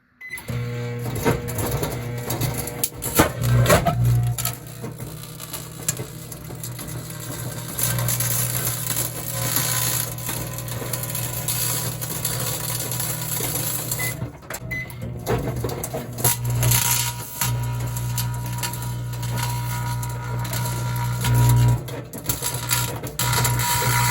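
Flash paper folded inside aluminum foil in a running microwave oven: a steady low electrical hum throughout, overlaid with irregular crackling, buzzing and clattering bursts, with no voices.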